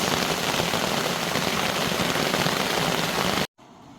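Steady rain falls on a campsite in Red River Gorge, a continuous close hiss of drops that holds evenly, then cuts off abruptly near the end, leaving quiet.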